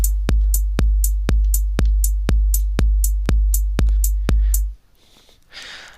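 Punchy house kick drum sample in BandLab, ten evenly spaced thumps with crisp closed hi-hat ticks, loud and dry, ending in a short quiet tail.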